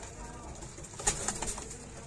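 Pigeons in a loft coo softly, and a short burst of wing flapping or fluttering comes in the middle, fairly close over a low steady background.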